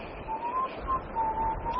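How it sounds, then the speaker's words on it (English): A person whistles a thin, wavering tune alone and at moderate distance, short melodic phrases over a quiet room-noise background. "shut up that whistling"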